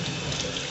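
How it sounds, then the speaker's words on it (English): Water draining out of a basin after hand washing clothes, a steady rushing, gurgling flow heard up close with no voices. "after that you just drain your water out"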